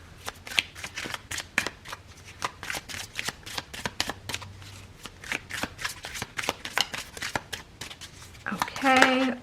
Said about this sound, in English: Let's keep shuffling.